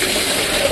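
Water pours and splashes steadily for pigs in a pen, a loud close gushing rush with no break.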